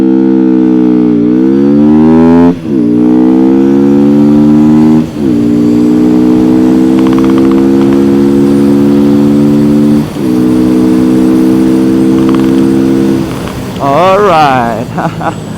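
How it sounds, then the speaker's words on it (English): A Benda Chinchilla 450 cruiser motorcycle accelerates hard through several gears, each rising engine whine cut by a brief dip at the shift, loud and close, ending with a fading rev. "it is time for us to measure acceleration"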